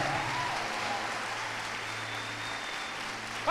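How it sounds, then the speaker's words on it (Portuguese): A church congregation applauds during a sermon, a soft continuous patter of many hands clapping at a distance, fairly faint, with a voice briefly breaking in at the very end. "aplauda mais forte"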